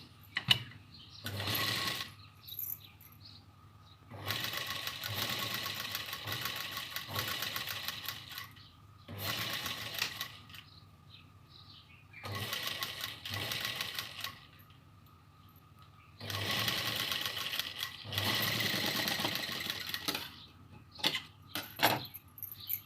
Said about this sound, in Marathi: आता ही तुमच्या समोर मी शिवून दाखवते